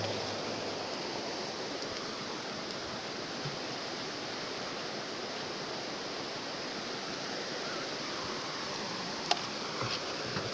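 The Sungai Sawang (Krueng Sawang) river flows beside a riverside cooking spot, a steady, full rushing wash of water that holds evenly throughout with no voices, apart from one brief sharp click near the end.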